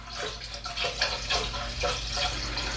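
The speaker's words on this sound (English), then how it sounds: "I think I'll pour the mead into this because it has a little spout and it'll make it easier to pour into bottles" Homemade short mead made with raisins and citrus peel poured gently into a spouted container, giving a steady trickle with soft splashing surges, close and moderately loud, with no voices.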